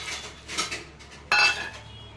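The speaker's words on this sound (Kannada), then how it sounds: "ಈಗ ಇವನ್ನ ಜಾರಿಗೆ ಹಾಕ್ತೀನಿ" Cooled peanuts, green chillies and coriander are dropped into a steel mixer jar, giving a few light clinks and rattles followed by a sharper metallic clatter, with no one speaking.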